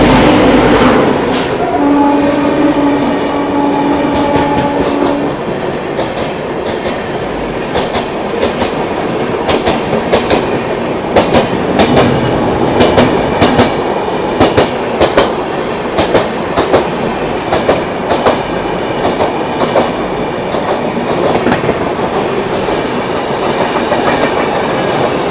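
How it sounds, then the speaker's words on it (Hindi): KSR Bengaluru–Hazrat Nizamuddin Rajdhani Express, hauled by a Royapuram shed WAP-7 locomotive, rolling past at speed with a loud continuous roar and steady clickety-clack of wheels over rail joints, a brief horn-like tone at the start. "सामने से आ रही है KSR बेंगलुरु हज़रत निज़ामुद्दीन राजधानी एक्सप्रेस, बैंगलोर राजधानी आती हुई रॉयापुरम शेड वेब 7 के साथ।"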